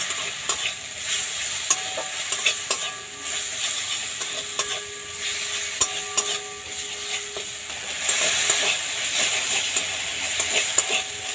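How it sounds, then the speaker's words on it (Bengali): A spice paste with chili powder fries in oil for a Poush Sankranti dish, with a close, steady sizzle and frequent scraping knocks of a spoon stirring the pan. "এবার মশলাটা ভালো করে কষে নেব"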